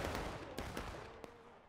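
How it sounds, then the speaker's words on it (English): A musket volley in the War of Rights battle game sounds as several sharp, staggered gunshots over a second or so, loud and booming with a rumbling tail. "Take aim. Steady, boys. Fire!"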